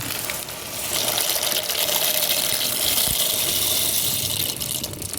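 Steady, rushing water noise from a pot of water at a rolling boil, continuing loudly for several seconds with no talking.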